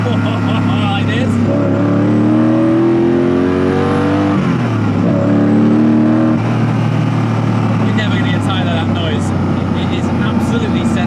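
A Koenigsegg CCX supercar's engine roars loudly as the gearbox drops down, revs climbing and falling in sweeping rising tones with a sharp blip in the middle, close and dominant over a constant road drone.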